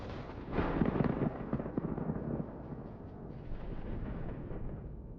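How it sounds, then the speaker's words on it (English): Heat traps on a tank ignite and burst in a rapid, crackling series of explosive pops, dense and loud at first, then continuing as a sustained rumbling roar. "The heat traps ignite and explode, creating a spectacular view."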